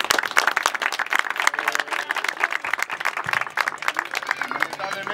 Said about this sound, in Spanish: le pido un fuerte aplauso, por favor.